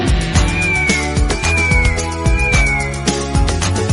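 A cat meows several times, bright and repeated, over a busy musical backing of a Hindi children's rhyme, with steady drums and instruments playing throughout.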